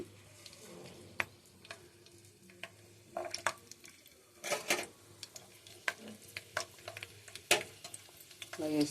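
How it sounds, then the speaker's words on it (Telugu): Onions hit hot oil for a tomato pickle, making a faint, sparse crackle of scattered pops and ticks with occasional soft stirring sounds, quiet and close, without speech. "కొంచెం ఆయిల్ కాయిన తర్వాత ఉల్లిపాయలు వేసేస్తారు ముందు"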